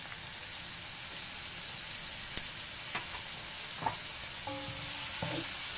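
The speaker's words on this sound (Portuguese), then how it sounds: "Vamos fritar esse colorau" Steady sizzling hiss of colorau frying with seafood stew ingredients in an iron pot, a constant close crackle broken by a few light clinks and stirring taps.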